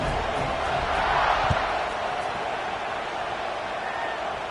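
A football stadium crowd roars in a steady, dense wash of cheering during a kickoff, loud and sustained throughout with no clear breaks.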